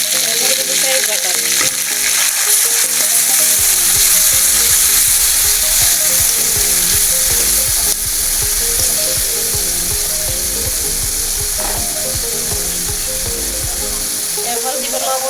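Garlic paste added to spice paste frying in a pan, a loud close steady sizzle with rhythmic stirring and scraping throughout.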